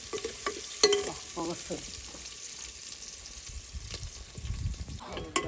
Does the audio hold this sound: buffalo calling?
no